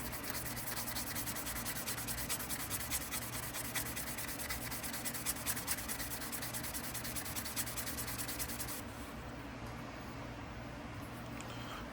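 Fine, continuous rubbing of 2000-grit sandpaper on the metal bolsters of a Parker Cut Co folding hunter knife, a close, even hiss with rapid strokes that softens toward the end, no voices.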